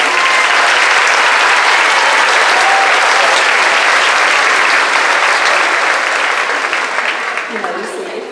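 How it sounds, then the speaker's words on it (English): Graduation ceremony audience applauding steadily and loudly, a dense sustained wash of clapping that fades slightly toward the end. "round of applause."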